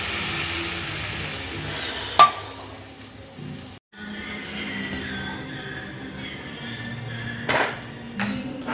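A vegetable curry bubbles and sizzles in a home kitchen pan after water goes in, a steady hissing simmer with a brief break midway and a few sharp utensil clinks.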